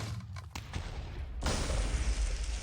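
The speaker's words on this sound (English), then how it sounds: "Yeah, huge explosion. Quite big." A bunker buster shell from a working tank in Minecraft detonates into a dense, roaring blast with crackling, rumbling debris that swells loud and sustained after a few sharp booms.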